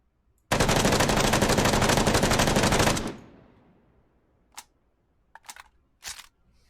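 A rifle in the game Operation: Harsh Doorstop fires on full auto, one loud rapid burst of about two and a half seconds that echoes away, followed by a few sharp mechanical clicks and clacks of handling.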